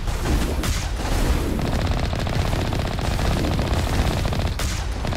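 Sustained rapid automatic gunfire in Mass Effect Legendary, dense bursts of shots rattling continuously and loudly throughout, with a couple of sharper blasts standing out.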